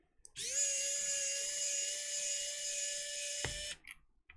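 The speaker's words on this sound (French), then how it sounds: "on part en mode tournevis. Électrique." Electric screwdriver backing screws out of a modded Game Gear handheld console: one sustained high whirring motor run lasting about three seconds, close and steady, stopping abruptly with a small click.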